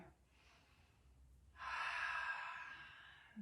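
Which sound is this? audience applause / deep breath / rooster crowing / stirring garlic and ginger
deep breath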